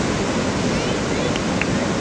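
Ocean surf at Anglet, a steady broadband wash of breaking waves at fairly high level with light wind, continuous and without clear separate breaks.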